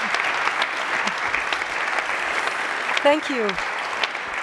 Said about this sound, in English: Give a big warm goodbye applause to all two speakers.